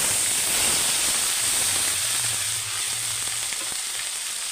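Ground spice paste sizzles steadily in hot mustard oil for a Bengali egg posto curry, a dense, continuous frying hiss close by with no voices.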